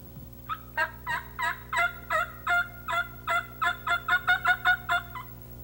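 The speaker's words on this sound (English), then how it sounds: "The idea is to get the tom to gobble back and find out exactly where he is." A wild turkey gobbles in a long, rapid series of clipped notes, close and fairly loud, speeding up slightly toward the end, during a turkey hunt in Dickinson County, Michigan.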